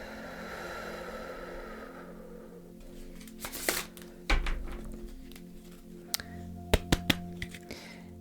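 Cards being shuffled by hand, heard as a few brisk papery bursts and soft thumps over a low, steady room hum, close and moderately quiet.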